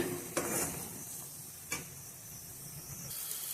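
Mango chutney stirred in a pan over a high flame, a soft steady sizzle with a couple of sharp scraping clicks of the spoon, quiet and close.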